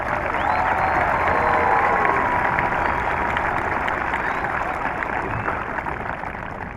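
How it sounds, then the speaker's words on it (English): Sustained audience applause at a 2023 Boaz High School graduation ceremony, a dense, steady wash of clapping from a large crowd that holds loud throughout and fades slightly toward the end. "I suggest we give him another round of applause."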